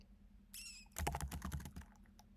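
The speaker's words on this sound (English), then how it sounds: "I need to get better at typing" Quick bursts of typing on a computer keyboard clatter up close during a coding session, with a short squeaky sound just before the keys start.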